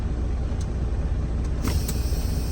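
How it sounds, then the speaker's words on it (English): A truck rolls slowly at about five miles an hour for a service brake test, a steady low engine rumble with brief hissing air-brake bursts partway through. "I'm going to drive 5 miles an hour, make sure my vehicle stops, does not pull left or right"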